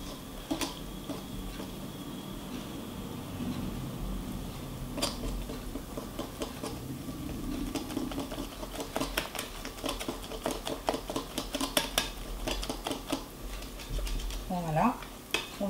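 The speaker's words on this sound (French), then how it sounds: "on vient tout simplement incorporer notre farine à notre mélange" T45 flour being stirred into chocolate muffin batter, giving soft, irregular scraping and tapping of a utensil against a bowl, steady throughout with a few sharper clicks, close up.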